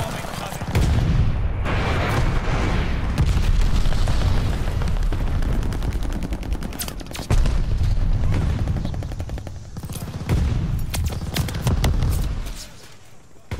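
Bombing run in Call of Duty Vanguard multiplayer, with dense rumbling blasts and crackling explosions rolling on for many seconds and a loud burst near the middle, heard under gameplay noise.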